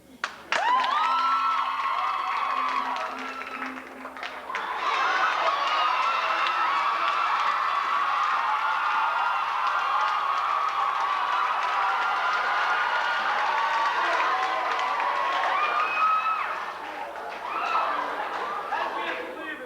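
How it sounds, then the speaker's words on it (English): Audience at a 1990 senior variety show claps and cheers loudly, with shouts and whoops over continuous applause that swells again after a brief dip, voices mixed into the crowd noise. "Let's have a big round of applause for Derek."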